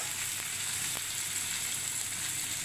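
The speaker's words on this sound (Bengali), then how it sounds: "এই পেঁয়াজ কুচিটা বাদামি হওয়া অবধি ভাজতে থাকবো।" Chopped onions fry in a pan for mutton keema, browning in a steady, dense sizzle that holds even and close throughout with no talk.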